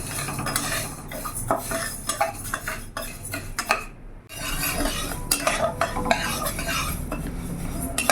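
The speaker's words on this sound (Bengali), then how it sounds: "মুগ ডালটা প্রথমে ভালো করে শুকনো কড়াইতে আমি ভেজে নেব" Sonamukhi mung dal is dry roasted in a wok, with busy scraping and clattering of a metal spatula stirring the dry lentils, broken by a brief pause.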